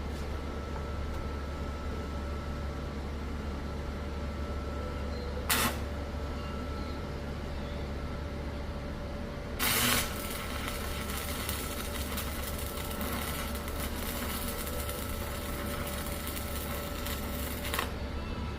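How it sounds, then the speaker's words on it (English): A Hone stick welder lays a bead, giving a faint steady crackling hiss over a low hum, with a few sharp louder bursts and clicks breaking in along the way. "That's a nice steady weld right there."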